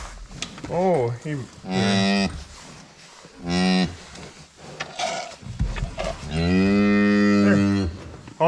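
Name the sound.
cow mooing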